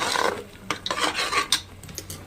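A spoon scraping and stirring chana masala gravy in a pan, with irregular rasping strokes and light metallic taps, close and moderately loud with no talking.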